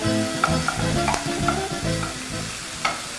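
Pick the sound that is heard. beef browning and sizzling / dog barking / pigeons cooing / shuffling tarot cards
beef browning and sizzling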